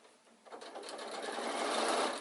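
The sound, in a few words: sewing machine stitching across the front of an insulated picnic bag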